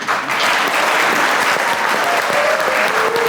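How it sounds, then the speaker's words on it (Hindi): Loud, dense audience applause at a Pakistani TV talk show taping fills the whole stretch, steady and close, with a faint tonal whistle drifting through near the end. "आप सब लोगों की तालियां होनी चाहिए।"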